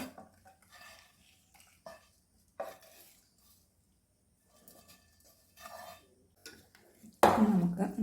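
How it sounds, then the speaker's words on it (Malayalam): A spoon stirs masala into a green pea curry in a pan. Quiet, intermittent clinks and scrapes come with pauses between them, and a louder, rougher burst of stirring closes the clip. "നമുക്ക് നന്നായിട്ടൊന്ന് ഇളക്കി മിക്സ് ചെയ്യാം"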